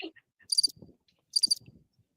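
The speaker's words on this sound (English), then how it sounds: "Where the crickets?" Repeated bursts of cricket chirping come in two clusters, each a quick trill of several pulses, clear and fairly close, with faint low rustling between them and no speech.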